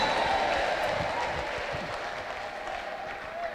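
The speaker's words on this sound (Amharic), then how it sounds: "ለጌታ ለኢየሱስ ክርስቶስ ክብር ያለው ሰው ቆማችሁ እልልታ፣ ቆማችሁ ጭብጨባ" A church congregation applauds during a prophetic worship service, a dense sustained clapping from a large crowd with scattered cheers that fades slightly over a few seconds.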